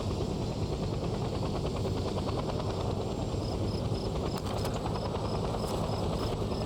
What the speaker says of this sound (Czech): To je nějaká bugnutá helikoptéra.